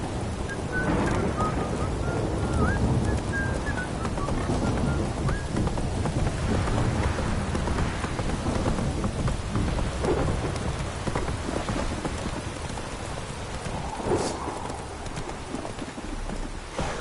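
Steady, loud rain pours with rolling thunder in The Witcher 3: Wild Hunt, while a horse's hooves clop along continuously beneath the downpour.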